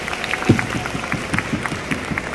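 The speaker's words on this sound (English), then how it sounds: "Give yourselves a round of applause for trying this out." An audience at a stitching camp and game fair gathering applauds, with a steady patter of many hands clapping at moderate loudness and one sharper clap standing out near the start.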